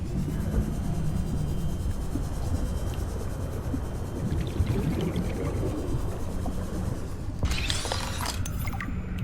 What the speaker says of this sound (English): there's a shark like that one that was just above my head. He's chasing me. You can hear him.